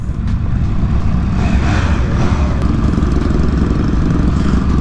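A Triumph Speed Triple 1200 RR motorcycle engine idles and rumbles steadily at close range, a dense continuous low drone with no break for about five seconds amid a busy bike week setting.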